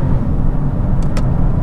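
A sports car with a quick-shifting paddle-shift transmission accelerating hard, a loud steady engine rumble with no break in power throughout the short clip.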